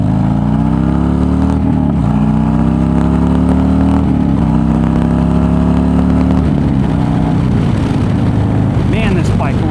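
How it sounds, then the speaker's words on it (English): A motorcycle engine revs loudly while riding on a warm February day, with a strong droning pitch that climbs and dips as the rider accelerates. Constant wind rush runs under it the whole time. "Man, this bike rips."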